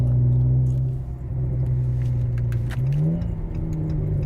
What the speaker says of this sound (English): this exhaust sounds so good